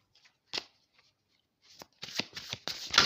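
Oracle cards being shuffled and drawn by hand, with a few soft isolated flicks, then a rapid run of crisp riffling card snaps in the last second and a half, close and clear.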